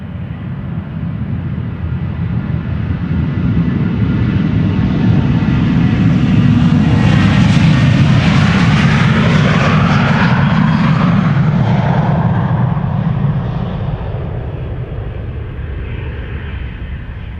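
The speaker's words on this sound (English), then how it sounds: "The 737-900 is doing a turn and burn." KLM Boeing 737-900 departing Amsterdam Schiphol, a loud close jet engine roar that swells to a peak midway with rising and falling whine as it passes, then fades.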